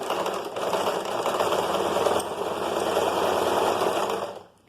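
A sewing machine runs steadily, stitching a cuff on the wrong side with a 1 cm seam allowance, a continuous close whir with a short pause near the start before stopping at the end.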